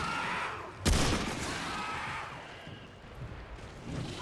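Gunfire from the video game Remnant 2 on PS5: a single loud, sharp shot near the start, then a lower rumbling game ambience that slowly fades, with no talking.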